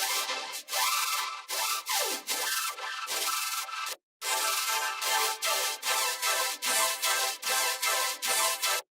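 A sequence of bright, whooshing hyper-style sound effects from the Colour Forge preset pack by Nasko for Kilohearts, a short gap partway through, then repeated rhythmic bursts, loud and close.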